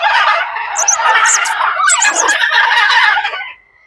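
At Dehiwala Zoo, macaws and other parrots screech loudly and harshly in one sustained, raucous stretch of overlapping calls that fades out at the very end.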